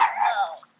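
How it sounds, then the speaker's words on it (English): Small dog passing close by indoors, giving a single brief high yip or whimper that fades quickly into silence. "Disregard the little dogs walking past."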